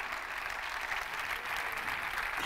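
Steady, dense clapping from a large crowd at a basketball team presentation in Pesaro, continuous and even throughout with no voices on top.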